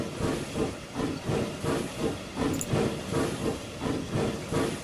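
Green British saddle tank steam engine in the game Transport Fever 2, hissing and chuffing in a steady rhythmic pulse of about two beats per second, close and continuous with no voices.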